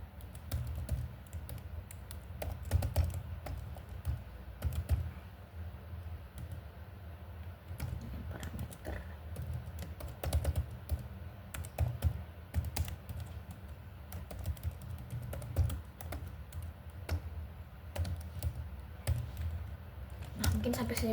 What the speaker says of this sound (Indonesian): Di sini aku ketik dulu kodenya.